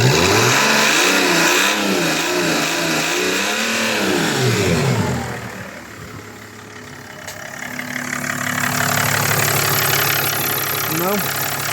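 Mercedes OM648 diesel engine being revved during an injector seal check, rising and falling in pitch through several close, loud rev cycles before settling back toward idle.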